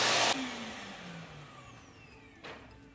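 An LG CordZero all-in-one station emptying a cordless stick vacuum's dustbin, opening with a loud whooshing suction burst, then a steady motor whine that fades and swells again near the end.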